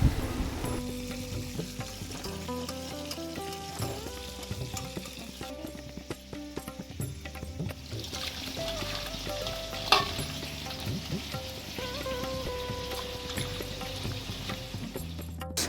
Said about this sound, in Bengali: একদম হালকা তেলের মধ্যে দেখো মাছগুলো ভেজে নিচ্ছি